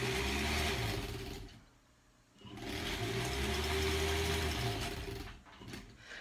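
A sewing machine stitches a seam on a granny square quilt, whirring in two steady runs with a brief pause between, fairly quiet and close.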